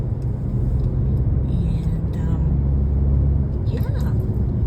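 Low, steady road rumble of a vehicle cruising along a road, with engine drone and tire noise throughout and a brief higher whine near the end.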